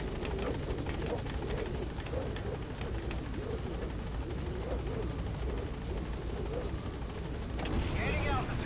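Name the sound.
Pequod helicopter in the video game Metal Gear Solid V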